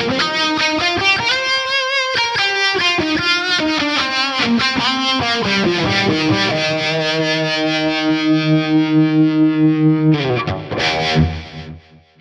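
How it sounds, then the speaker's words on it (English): An electric guitar through a Fractal Audio FM9 with distortion and harmonic tremolo plays chords and a sustained note, the tone pulsing rhythmically in volume, loud and alone, before cutting off abruptly. "it'll go to the harmonic trem, sounds like this."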